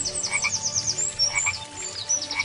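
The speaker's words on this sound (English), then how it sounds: "a frog jumped out of the water" A frog croaks from near the water in repeated soft rhythmic calls, with a faint airy high-pitched texture layered over them.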